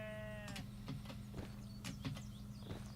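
Sheep in a video game bleat in short repeated calls over a steady low hum, fairly faint, with a brief high tone at the start.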